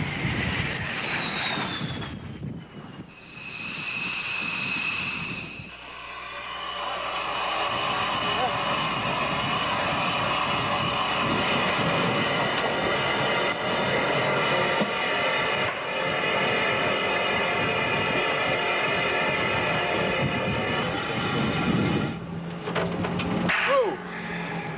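Fighter jet of an interceptor group flying an approach to Atlantic City Airport, its engine roaring loudly and steadily for over twenty seconds, with voices talking over the noise.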